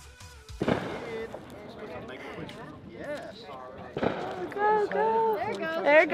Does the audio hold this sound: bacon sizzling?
no